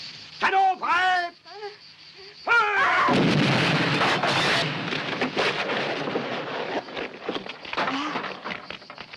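A deep, booming cannon blast follows a few shouted voices, its roar rolling on and slowly fading for several seconds.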